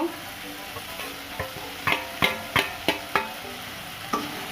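A spoon stirs coriander leaves into a simmering rohu fish kalia, giving several sharp scraping knocks against the pan over a low steady sizzle.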